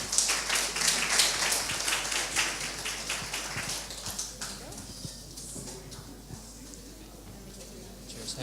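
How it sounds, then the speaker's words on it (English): Audience applause at the SensUs 2017 event as a team comes on stage, a dense wash of clapping that swells early then gradually thins and fades. "Give them a round of applause"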